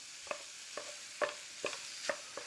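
Ground beef being mashed and stirred in a skillet with a little baking soda, giving five or six soft scraping knocks spaced about half a second apart over a faint background sizzle.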